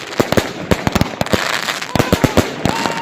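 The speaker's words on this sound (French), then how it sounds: "on va péter tout simplement ces pétards" Firecrackers set off just after New Year 2020 pop in a rapid, irregular string of sharp, loud bangs with crackling between them, close by, while faint voices talk and whistle-like tones rise near the end.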